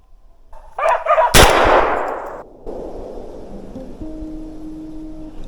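A single loud gunshot cracks outdoors during a May bear hunt and booms away into a long echoing tail, followed by quiet ambient hiss and a faint tone.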